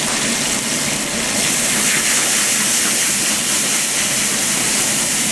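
White wine poured into a hot pan of melted unsalted butter, producing a loud, steady, broadband sizzle and hiss of steam that holds evenly throughout.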